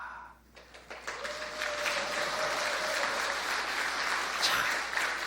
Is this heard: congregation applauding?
yes